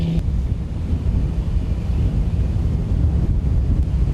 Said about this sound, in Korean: 뿐만 아니라 바람까지 세게 불어닥친다.